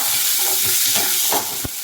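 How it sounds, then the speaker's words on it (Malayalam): Shallots, garlic and ginger fry in hot oil while being stirred, producing a bright, steady sizzling hiss with soft scraping stirs and a brief clack near the end. "ഈ ചെറിയുള്ളിയും വെളുത്തുള്ളിയും ഇഞ്ചിയും കൂടെ തിരിച്ച് ചേർത്ത് കൊടുക്കാം നല്ലോണം ഇളക്കി കൊടുക്കാം"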